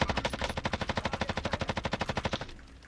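Rapid automatic gunfire in Call of Duty: Warzone, a steady stream of about twenty evenly spaced loud shots over a couple of seconds before cutting off, with no talk.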